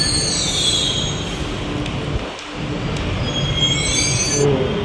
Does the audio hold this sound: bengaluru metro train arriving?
yes